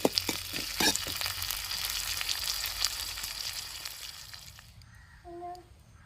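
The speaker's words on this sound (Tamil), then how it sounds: "எண்ணெயில் வெங்காயம் வெள்ளைப்பூடு பச்சை மிளகா கொஞ்சம் நேரம் வதங்கி வரட்டும்." Onion, garlic and green chilli frying in oil give a dense, close, crackling sizzle with a few utensil knocks early on. It fades gradually, and a short run of electronic-sounding tones follows near the end.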